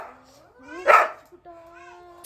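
On a roadside outing, a dog gives one sharp bark among whiny, yelping vocal sounds, with people's voices mixed in close by.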